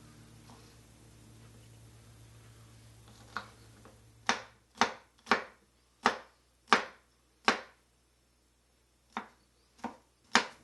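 Vegetables for a chicken and okra stew are chopped on a board, about ten sharp knife strikes in an uneven rhythm following a quiet pause, close and clear with no talk.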